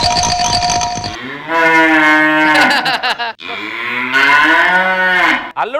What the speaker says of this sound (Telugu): అల్లుడు బర్రెలు అరుస్తున్నాయంటే